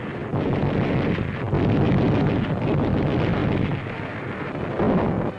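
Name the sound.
naval gunfire bombardment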